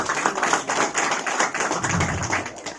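An audience at an Indonesian business presentation claps together, a dense burst of close hand claps lasting a few seconds before it thins out.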